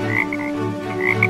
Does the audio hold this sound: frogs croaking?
yes